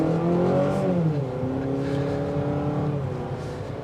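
A 2023 Honda CR-V Sport Hybrid with 204 horsepower accelerates hard from a standstill toward 60 mph, its engine drone rising and shifting pitch steadily from inside the cabin, loud and continuous without talk.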